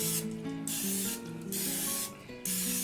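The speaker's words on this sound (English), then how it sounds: "We're going to go ahead and spray." Non-stick cooking spray hisses onto mini pie pans in three short close bursts, each a sharp aerosol spray separated by brief pauses.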